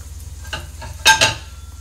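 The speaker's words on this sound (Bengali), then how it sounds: "তেলটা গরম হয়ে গেছে। কড়া গরমে দিলে কিন্তু ভালো ভাজা হবে না" Oil sizzles and crackles in a pan as Bengali vegetable chops fry in moderately hot oil, with a couple of sharp clattering bursts as pieces are dropped in and stirred.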